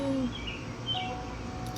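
Birds call outdoors on a hot morning, a couple of short chirps and whistled notes over a low steady background hum, faint and brief.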